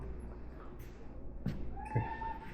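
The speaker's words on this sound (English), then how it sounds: "the maniac cat that's beating at the door" A cat meows a few times behind a door it is beating at, fairly faint and brief amid quiet room noise, with no talking over it.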